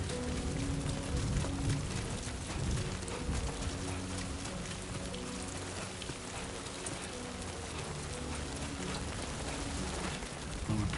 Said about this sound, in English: I can kind of feel the rain on the controller.